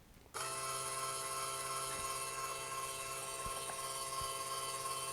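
A steady, high-pitched motorized whir from a Varia VS3 Gen 2 coffee grinder running empty starts abruptly and runs continuously at an even level, with a faint rattle; no talking.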